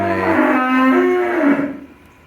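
Hungry cattle moo loudly and close by at a silage feeding, one long harmonic call rising and falling over about a second and a half, then fading into quieter farm background.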